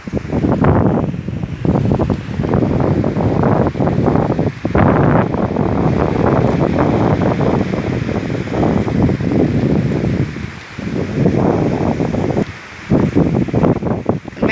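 Strong, gusty wind blasts across an outdoor spot, buffeting the microphone with loud, continuous roaring and rustling that rises and falls in surges for the whole stretch.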